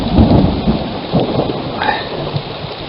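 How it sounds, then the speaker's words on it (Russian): Heavy rain pours steadily while low thunder rumbles close by, with deep rolls swelling and fading beneath the hiss. "Дождь пошел."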